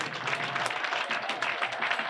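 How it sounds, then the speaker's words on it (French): An audience claps together in a brief, dense burst of applause at a French-language community ceremony honoring a retiring chief, heard close and continuous with no voices over it. "Applaudissons pour le chef émérite"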